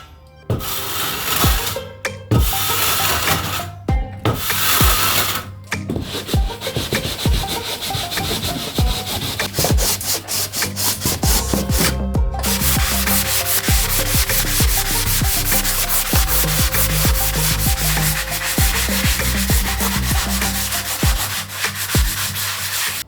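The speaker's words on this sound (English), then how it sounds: "I'm going to come back to here and I'm going to sand it as best I can" Sandpaper is worked by hand across a wooden surface in repeated rough rubbing strokes, close and steady, with brief pauses early on before continuous scraping.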